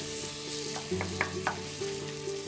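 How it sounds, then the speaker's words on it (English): Onions and tomatoes for an empanada stuffing simmering in a pan, a steady soft sizzle with low hum beneath and a few faint spoon taps, alone without talk. "So we're just going to let this simmer a little bit, literally."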